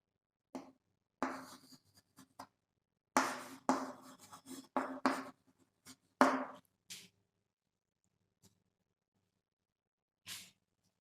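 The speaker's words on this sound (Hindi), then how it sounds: "यहां मैं लिखता हूं" Marker or chalk strokes scratching on a classroom board in a Hindi chemistry lesson, several bursts of quick writing strokes with short pauses between, close and fairly quiet, with no talking.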